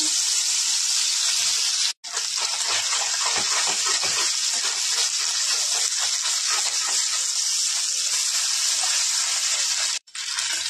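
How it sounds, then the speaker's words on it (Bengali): Small fish rubbed with salt and turmeric fry in white oil in a wok, giving a loud, continuous hissing sizzle that holds steady, broken by two brief silent gaps. "কড়াইয়ের মধ্যে ছেড়ে দেবো।"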